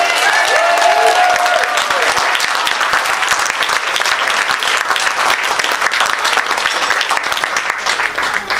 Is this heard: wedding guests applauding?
yes